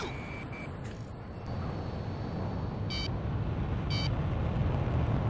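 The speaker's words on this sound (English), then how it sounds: "That damn alert won't shut up." Missile lock-on warning in Ace Combat 6 sounds as short, sharp electronic beeps, a couple of quick pips followed by two distinct tones about a second apart over steady jet engine rumble.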